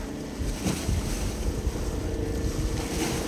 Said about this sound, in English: looks like a jet ski coming in